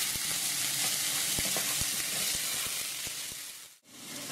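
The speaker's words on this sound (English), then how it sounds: "Make sure you stir when you're cooking the garlic so it doesn't burn." Minced garlic, onions and celery fry in a pan with a loud, steady sizzle, broken by scattered sharp taps from stirring and a brief drop near the end.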